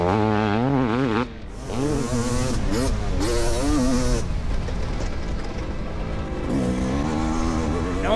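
A 500cc two-stroke motorcycle racing on a track, its engine revving hard and rising in pitch through acceleration, dipping briefly between gear changes, loud and sustained under a commentator's voice.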